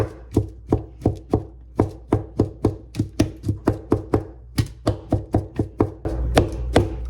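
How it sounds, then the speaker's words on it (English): Steady, rapid knife chops strike a cutting board while vegetables are cut up during weekly meal prep, a run of sharp, evenly spaced close thuds with a brief pause midway and a denser burst at the end. "I'm just gonna chop all these up."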